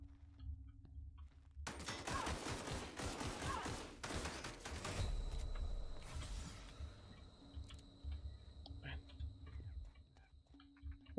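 Rapid bursts of gunfire from a sci-fi shooter game, The Outer Worlds, a dense volley over the first few seconds and then scattered shots and mechanical clicks trailing off, with a steady game ambience underneath.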